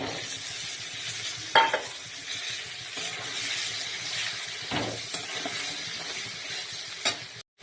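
Steady sizzling and hissing of green peas frying in a pan, with occasional scraping stirs and a light metallic clink.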